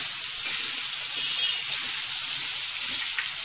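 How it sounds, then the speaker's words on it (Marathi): Black chili powder and red chili powder fry in a hot pan of oil for a spicy mutton curry, giving a continuous bright, hissing sizzle that stays steady and close throughout, with no talking. "5 चमचे काळं तिखट घेतलेले आणि मिरची पावडर पण आपण लगेच टाकून घेऊया."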